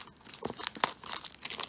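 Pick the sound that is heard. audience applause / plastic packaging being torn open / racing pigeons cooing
plastic packaging being torn open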